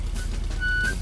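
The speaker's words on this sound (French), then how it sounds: "Papy Dog remorque la voiture de Peppa jusqu'à son garage." A cartoon tow truck driven by Papy Dog pulls Peppa's car along, its engine humming low while a short reversing-style beep chirps twice over it.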